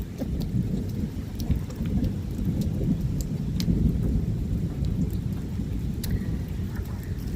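Steady rain patters and hisses on surfaces, dense and continuous, with a low rumble beneath and occasional sharper drips standing out.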